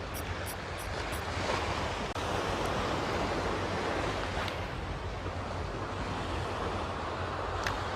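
Strong headwind and crashing waves fill a sea island shore during squid fishing, a loud continuous roar of surf and wind buffeting the microphone throughout.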